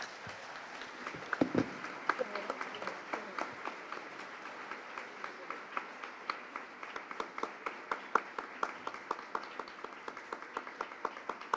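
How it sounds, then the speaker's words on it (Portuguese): A small gathering at a tenth-anniversary celebration claps together, a scattered, fairly faint patter of hands that builds into steadier applause with a few louder individual claps standing out. "Uma salva de palmas para nós"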